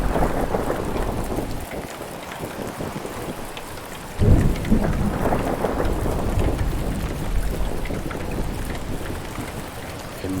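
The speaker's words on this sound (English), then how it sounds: "Yes, terrible storm." A terrible storm rages in the sailing game Make Sail, with heavy rain pouring steadily throughout and a loud crack of thunder rolling in midway before the downpour continues.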